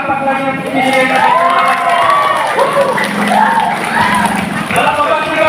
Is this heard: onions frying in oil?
no